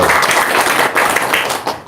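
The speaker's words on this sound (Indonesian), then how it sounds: "Tepuk tangan dulu dong." Audience applause in a talk session, a brief burst of dense clapping with a few exclamations mixed in.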